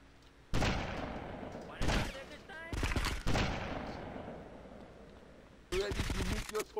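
Several separate heavy gunshot bursts from a Grand Theft Auto Vice City shootout at a sniper, each one sharp and loud, separated by quieter gaps carrying background game noise.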